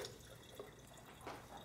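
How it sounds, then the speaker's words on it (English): Water from a sink tap rinses a Vitamix blender jar, a soft steady trickle and splash with a few faint drips, close by and quiet. "I'm gonna do a quick rinse down the sides and dump that out"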